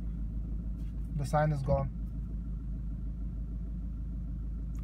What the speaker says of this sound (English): Turn off the ignition and start the car.